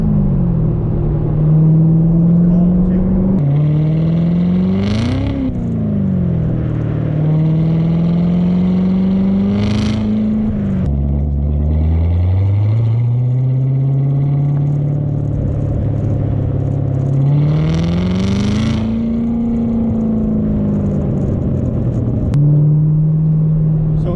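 A 2019 Corvette ZR1 on its stock factory exhaust revs hard again and again. Each blip climbs into a loud rising roar and then drops back to a deep idle burble, close up, with no talk.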